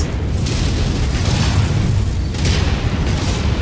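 Missiles exploding in MechWarrior 5 form a continuous rumbling roar of booms and blasts, loud and sustained with no gaps, as a mech battle plays out.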